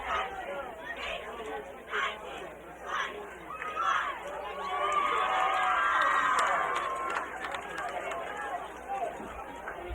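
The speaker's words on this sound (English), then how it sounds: "Very animated Chichester crowd in front of us, Wayne. They're feeling it right now." An animated Chichester crowd at a 2007 high school football game against Mount Carmel Area shouts and cheers in a dense babble, swelling into a loud sustained roar midway before settling back.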